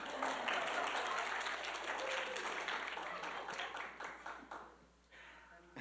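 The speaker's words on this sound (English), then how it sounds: "You didn't even give yourselves a round of applause." A church congregation applauds itself during a Sunday service, a soft, distant wash of many hands clapping that gradually tapers off toward the end.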